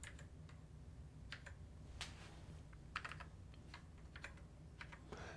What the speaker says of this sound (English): Okay, so we're gonna type in load.